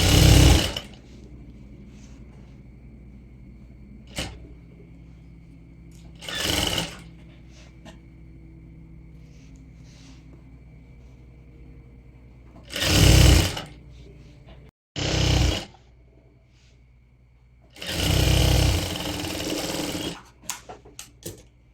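Sewing machine stitching a maxi dress, heard in several short loud bursts of rapid whirring between longer stretches of quiet room hum, the last run the longest.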